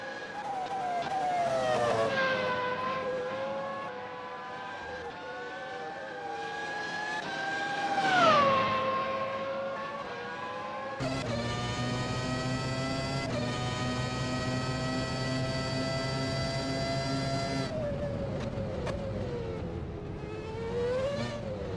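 McLaren MP4-13 Formula One car lapping Albert Park in the McLaren Heritage Trophy: high-pitched engine whine sweeping through gear changes, then a sustained rich, loud engine note as it passes close, fading back afterward.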